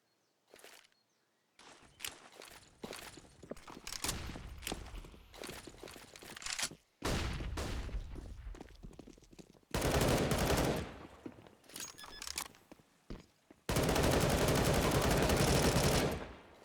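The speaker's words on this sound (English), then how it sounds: "More shots coming through" Counter-Strike gunfire from a competitive match: rapid rifle bursts and scattered single shots, loud and close, with dense stretches of sustained fire, quiet gaps and footsteps in between.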